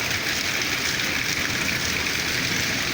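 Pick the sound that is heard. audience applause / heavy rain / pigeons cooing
heavy rain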